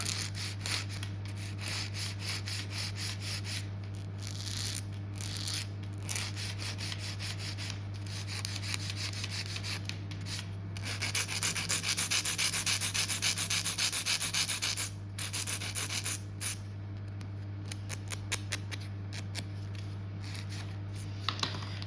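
Acrylic nails being shaped with a hand file, heard as quick, close, rhythmic scratchy rasping strokes in short bursts over a steady low hum, with pauses between passes and no voices.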